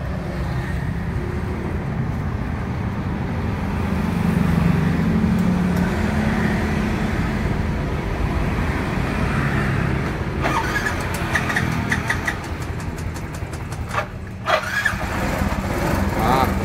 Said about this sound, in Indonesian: Tes mesin.